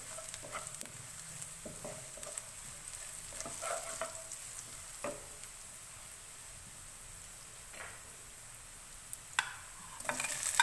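Fenugreek, nigella and mustard seeds sizzle in hot oil for an aloo katliyan sabzi, a soft steady crackle with scattered pops and a few utensil clicks, fairly quiet and close, growing a little busier toward the end.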